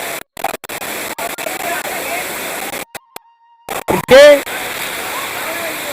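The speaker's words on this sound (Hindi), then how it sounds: "इस झरने को देखिए" A mountain waterfall at Brahmagiri near Nashik gives a steady rushing roar that runs through most of the stretch, broken by brief dropouts, while someone speaks over it.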